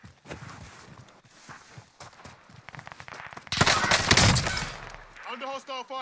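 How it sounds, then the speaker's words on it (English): Rapid automatic gunfire in the Call of Duty Warzone battle royale, sharp bursts building to a loud dense volley, with game sounds and voices in the background. "Under hostile fire."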